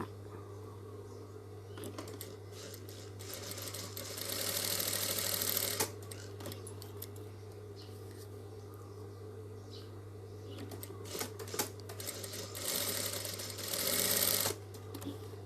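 A sewing machine stitching a fabric face mask, with faint rapid stitching bursts over a steady low hum, the loudest runs coming in two separate spells, no talking.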